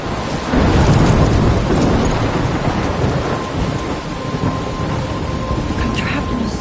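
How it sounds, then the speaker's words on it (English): A thunderstorm with heavy rain in the video game Life is Strange: a loud, steady roar of rain, with a deep rumble of thunder swelling early and holding under it, no talk. "I'm trapped in a storm?"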